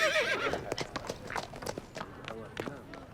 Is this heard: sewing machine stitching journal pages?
no